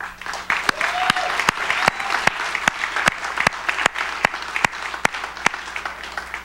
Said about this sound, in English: could we give a round of applause for the people that do the